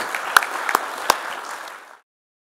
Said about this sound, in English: I think we should give them a round of applause for coming out.